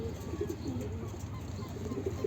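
A male bird calls repeatedly in low, cooing notes over steady outdoor background noise, fairly faint and somewhat distant.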